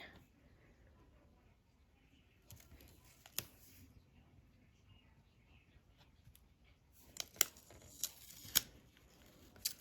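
Scissors snipping paper while making a mini album: a few sharp, close snips in a quiet room, with a cluster of louder cuts near the end.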